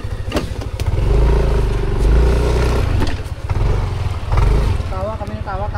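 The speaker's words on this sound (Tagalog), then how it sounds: "May motor din dyan." A motorcycle engine running nearby in a rural cave area, a steady low rumble with some clatter and scraping, heard under people talking.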